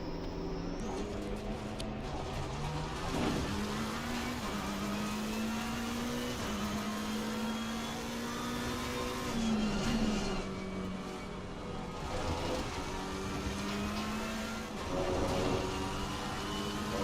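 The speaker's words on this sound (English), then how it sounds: "Vroom vroom." A McLaren race car's engine drones steadily at Paul Ricard in Assetto Corsa Competizione, its pitch climbing and dipping through gear changes as one continuous, moderately loud roar.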